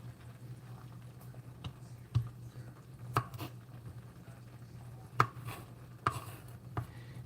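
A kitchen knife trims the ends off garlic on a cutting board: a handful of sharp, isolated taps spaced irregularly, faint and close, over a steady low hum.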